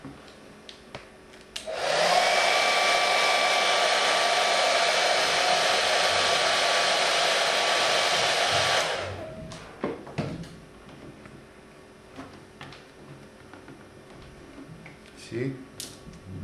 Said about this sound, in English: with the help of the hairdryer again, this can be removed.